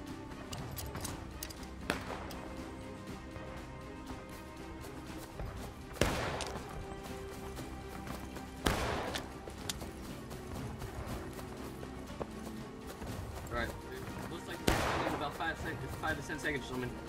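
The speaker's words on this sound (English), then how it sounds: "take aim, kill this Rambo. Shoot him" Musket fire in the War of Rights Civil War video game, with several sharp, loud shots cracking out at irregular intervals over a busy background of distant firing and shouting men.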